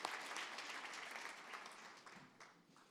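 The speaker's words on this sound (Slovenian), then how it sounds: "Aplavz za vse ekipe, ki so se predstavile na odru in blestele na našem kvizu." An audience at a business breakfast applauds the quiz teams that appeared on stage, giving sustained, dense clapping that gradually thins out, quiet and somewhat distant.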